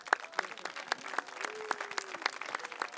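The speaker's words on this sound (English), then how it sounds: "qu'on peut applaudir" Scattered, sparse applause from a modest crowd at a sports match event in Schiltigheim, with distinct individual claps spaced irregularly and fairly close.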